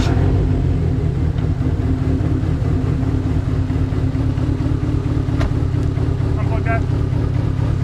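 A Dodge SRT-4 car, run-down and in poor condition, with its engine running steadily as it is driven slowly into a garage lift, a loud, constant low rumble up close with a few faint clicks.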